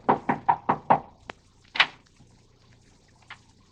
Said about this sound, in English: There's someone at the door.